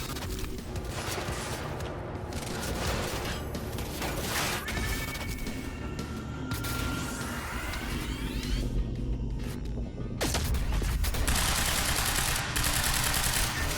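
Gunfire in Quantum Break during a firefight at Monarch HQ: dense, continuous bursts and rattling shots with clinking debris, growing louder and harsher toward the end.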